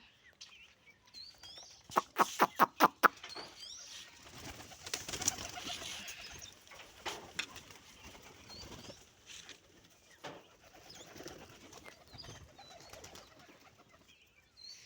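Pigeons coo softly amid a busy background near a bathing water dish, with a quick burst of flapping wings early on and faint rustling and patter throughout.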